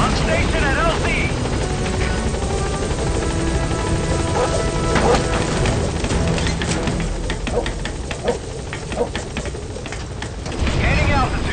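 A helicopter approaches a landing zone in the video game Metal Gear Solid V, its steady rotor chop and engine roar filling the scene with busy clicks and game effects layered over it.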